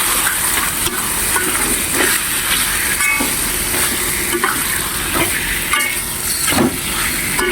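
Spicy meat with oyster sauce is stirred in a hot pan, producing a constant loud sizzle with periodic scraping strokes of the spatula, close up and with no voices.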